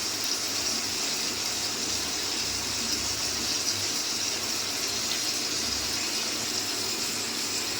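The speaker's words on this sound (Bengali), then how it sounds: "শুধু আদার রসটাই এখন যাবে এর মধ্যে।" Ginger juice pours into a cooking pot as a continuous, even liquid rush lasting several seconds, close and moderately loud, with no talking over it.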